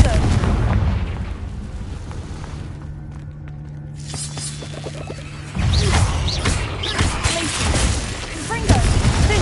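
Confringo fire spells blasting in Hogwarts Legacy, a string of loud, crackling bursts and impacts that thin out briefly to a low hum in the middle before erupting again.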